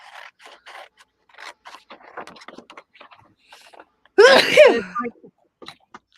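A single loud sneeze bursts out after a stretch of quiet, scattered rustling and small handling noises.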